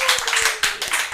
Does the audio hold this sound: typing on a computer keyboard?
no